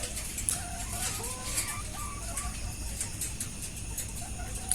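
Several chickens cluck and murmur continuously inside a poultry farm shed with its curtains lowered, over a steady background hum, soft and somewhat distant, with occasional sharper calls.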